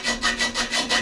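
A hand file rasps across the corners of a worn bolt hole on a 1928 Ford Model A roadster pickup, six steady back-and-forth strokes, close and loud with no talk.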